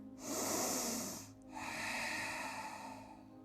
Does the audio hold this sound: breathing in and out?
yes